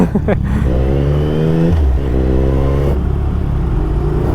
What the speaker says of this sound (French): Et quand je te dis qu'elle pète, c'est qu'elle pète la moto